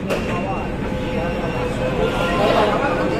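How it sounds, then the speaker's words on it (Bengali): An East-West Line metro train pulls into Esplanade station platform under the river, giving a steady, loud rumble and whir through the enclosed station, with voices faintly mixed in. "সাতটা পঁচিশে পরে মেট্রোটা ঢুকে গেছে"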